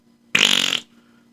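A voice imitates a fart with a single buzzy raspberry lasting about half a second, close and loud with nothing else around it.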